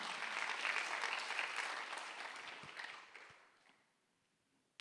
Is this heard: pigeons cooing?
no